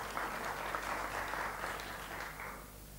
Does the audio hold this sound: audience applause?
yes